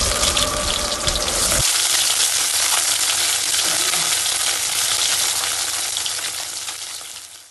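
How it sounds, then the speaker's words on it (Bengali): Bhola fish fries in a pan with a loud burst of hot-oil crackle at first, settling into a steady bright sizzle that fades slightly toward the end. "এবার আমরা মাছটাকে সুন্দর করে ভেজে নেব।"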